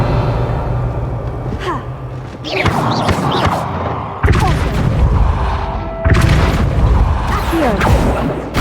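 Revelio spell cast in Hogwarts Legacy, heard as heavy booming magical pulses with thuds at a few points, layered over constant game ambience and a faint low hum.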